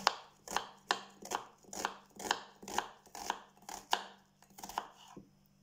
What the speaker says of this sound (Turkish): Soğanı yemeklik olarak doğruyorum.